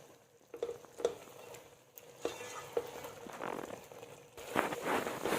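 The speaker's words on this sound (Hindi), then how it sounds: "चिकन की मैं भुनाई कर रही हूँ" Chicken with salt, chili, coriander and turmeric browning in oil for a desi chicken curry, giving a soft sizzle with scraping stirs and spoon knocks, growing louder and denser near the end, with no talking.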